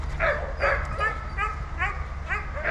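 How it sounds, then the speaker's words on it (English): Huskies at an Arctic Circle husky park yip, whimper and bark at feeding time, with about six rising, whining cries spaced roughly half a second apart over a low background rumble. "we started also feeding the Huskies"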